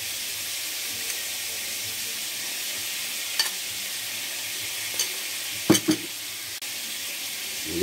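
Shrimp paste sautéing with pork in a hot pan, a steady hissing sizzle with a few soft clinks and scrapes of stirring near the end.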